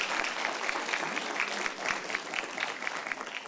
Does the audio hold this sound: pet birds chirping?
no